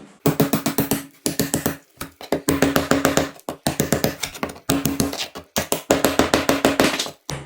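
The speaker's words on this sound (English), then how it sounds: "I'm gonna try to remove the section of mortar that was keyed in with this chisel" Steel chisel working away at keyed-in mortar on a board, struck in quick bursts of sharp, close tapping and scraping, separated by short pauses, with no talk.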